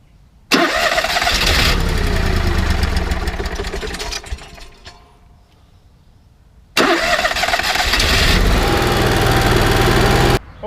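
Cummins Onan 5500 RV generator after a full service at over 2,500 hours, cranking and catching into a loud, steady engine drone, shutting down to near quiet, then restarting and running strongly again before cutting off.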